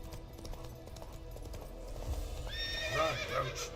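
Roach, the horse in the video game The Witcher 3, trots with soft steady hoofbeats under game ambience, then gives a loud whinnying neigh near the end.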